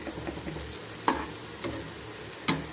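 Onions sautéing in a pan until golden, a low steady sizzle broken by three or four distinct spoon clinks and stirring scrapes, fairly quiet and close.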